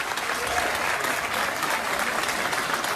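A crowd applauds as American firefighters arrive by plane to help, a steady, full round of clapping from many hands at even loudness throughout.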